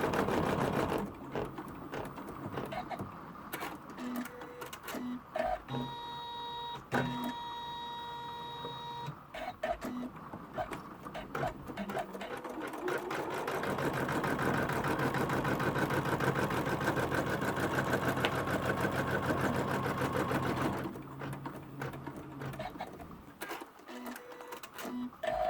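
Embroidery machine stitching out an in-the-hoop notebook cover design, a steady loud mechanical whirring and rapid needle chatter running continuously with brief shifts in pitch, close up and without talk.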